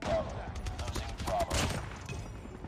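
Rapid bursts of gunfire in the mobile shooter Call of Duty Mobile crackle up close in quick succession, with steady game sound underneath.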